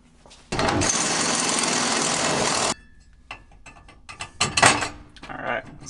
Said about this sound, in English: Go drill it out.